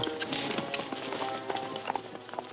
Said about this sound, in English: Spook that horse out of there, Price.